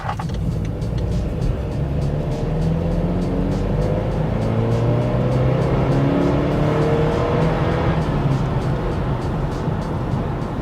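A 2017 BMW X3 xDrive28i with a 240-horsepower engine accelerates from the cabin, giving a steady, loud engine drone with rising tones as it picks up speed, and no talk over it.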